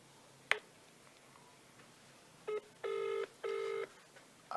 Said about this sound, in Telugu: దయచేసి నేను వాళ్ళకి రిక్వెస్ట్ చేస్తూ ఉన్నా సిద్ధేశ్వరన్నకు ఒకసారి ఫోన్ కలుపు.